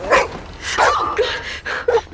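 A dog gives several close, loud barks and yips in an uneven burst, with a whiny edge between barks.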